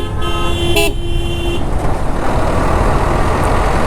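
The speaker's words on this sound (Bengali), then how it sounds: "বেকুবের মতো হর্ন বাজাচ্ছে আর কি।" A vehicle horn blares in a long, loud honk over steady street traffic rumble, with a brief extra blast in the middle, then the traffic noise continues alone.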